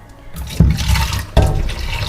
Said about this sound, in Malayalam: ഞാനിതിൽ കുറച്ച് നല്ല തിളച്ച വെള്ളം ഒഴിച്ച് ഇടുകയാണ്.